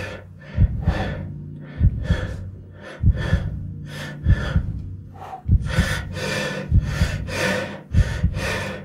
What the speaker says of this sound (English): I hate listening to breathing. I wish I'd make that sound not so loud.